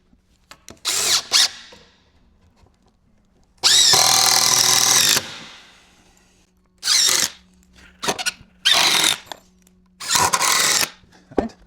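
A power driver drives 100mm stainless steel screws into treated timber for a guttering planter, with several whirring bursts of varying length separated by pauses. The first bursts are short, then comes one long sustained run, then more short runs.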